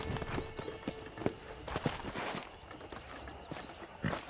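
Hooves of a horse in the video game Red Dead Redemption clip-clop irregularly at a walking pace, fairly close, over a faint background wash; no talking.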